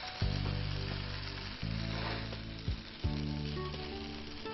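Spaghetti with chicken stirred with a fork in a non-stick pan, a steady loud sizzle and frying hiss broken by several short scraping stirs, close up, with no talking.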